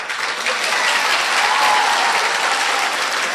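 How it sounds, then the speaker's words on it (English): An audience applauds at an 8th grade ceremony: a thick, sustained roar of many hands clapping together, loud and close, with no voices. "You can clap."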